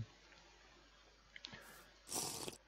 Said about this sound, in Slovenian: Ta voda je pitna, kar se tudi sliši, je sladka voda.